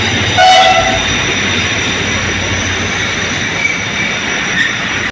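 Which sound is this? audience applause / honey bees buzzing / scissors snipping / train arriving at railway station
train arriving at railway station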